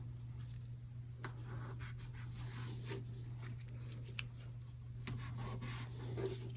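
Tape pressed and rubbed down onto paper while setting up a printable insert, soft continuous scraping and rubbing strokes with a few light taps, faint and close over a low steady hum.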